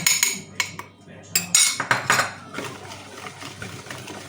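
Chocolate cake batter is whisked or stirred in a bowl with a utensil, giving irregular clinks and scraping bursts up close, strongest early and then easing into softer, steady mixing.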